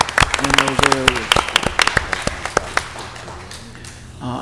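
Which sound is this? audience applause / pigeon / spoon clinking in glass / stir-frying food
audience applause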